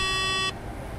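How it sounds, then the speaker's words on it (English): Tesla parked at a Supercharger gives a single steady electronic beep lasting about half a second, then it stops, leaving quiet background hum. "there's that beep."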